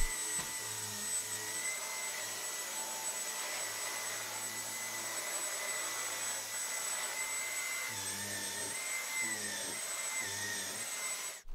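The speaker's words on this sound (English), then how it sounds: "Cleaning upholstery with the mini turbine tool is really easy, and it sucks very strongly, even in mode 1." A Dyson Cyclone V10 cordless vacuum with a mini turbine tool whines steadily and loudly while cleaning upholstery, with a high-pitched motor tone throughout and a rhythmic pulsing brush-head sweep near the end.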